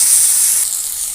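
Steady, loud sizzling of pointed gourd frying in hot oil over a wood fire, a continuous bright hiss with no voices.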